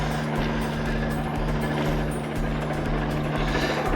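A droning airplane passes over a hiking trail on a Texas loop, a constant loud low rumble with a steady hum, blended with echoing construction noise and no voices.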